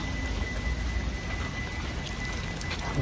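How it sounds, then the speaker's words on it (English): Heavy rain pours steadily outside a mechanic's shop, a dense, close hiss of drops drumming on surfaces with no pauses and no talking. "Oh boy, raining crazy today."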